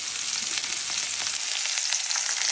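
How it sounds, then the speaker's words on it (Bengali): Chopped onions frying in oil for a hilsa fish curry, a dense bright crackling sizzle held steady and close, with faint stirring and no voices. "পেঁয়াজ দিচ্ছি, পেঁয়াজ কুচি।"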